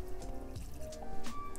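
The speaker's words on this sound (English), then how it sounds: "Then I'm gonna add in 1/2 cup of water" Half a cup of water poured into a pan for dairy-free broccoli mac and cheese, with soft trickling and dripping and a few wet splashes, close and fairly quiet.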